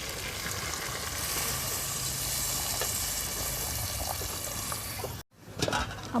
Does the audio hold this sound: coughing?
no